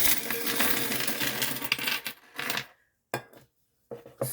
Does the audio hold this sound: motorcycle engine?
no